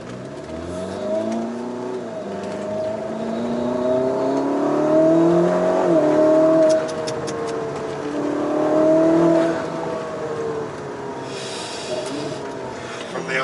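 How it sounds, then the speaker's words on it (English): A Ferrari SF90 Stradale's engine revs hard and climbs through its gears under way, loud and close, with several rising-and-falling pulls and a short lift-off before it builds again. "It's a very loud Ferrari."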